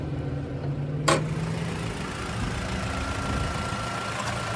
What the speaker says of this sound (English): just gonna take a quick look in the engine bay.